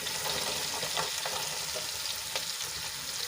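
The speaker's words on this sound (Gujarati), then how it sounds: "હવે તેલમાં સરસ રીતે મિક્સ કરી લઈશું" Chopped ridge gourd and green chili tossed in oil hiss with a dense, steady sizzle, broken by a few scraping stirs of a spoon against the pan.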